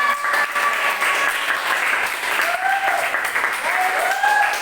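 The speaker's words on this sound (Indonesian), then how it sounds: "Tepuk tangan untuk kalian semua." A classroom full of students claps together during a lesson, with light talk and a few whistle-like tones over the applause.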